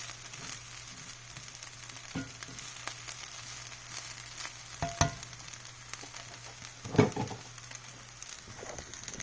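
Meat, chicken and shrimp frying in a pan for fried rice, a steady close sizzle with a low hum beneath and a few sharp clinks and scrapes of stirring.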